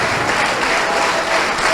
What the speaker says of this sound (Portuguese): Dê o melhor para Deus, a melhor salva de palmas.